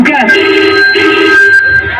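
A telephone rings with a steady electronic tone through a Bhojpuri orchestra comedy skit, loud and close, lasting about two seconds.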